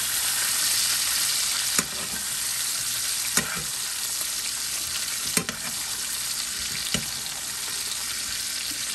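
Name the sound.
steaks frying and being basted in a pan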